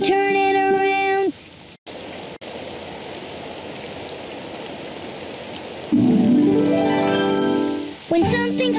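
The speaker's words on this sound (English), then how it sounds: "it's raining outside" Steady rainfall hisses in the background while loud tonal sweeping sounds, like synthesized or animated effects, come and go over it.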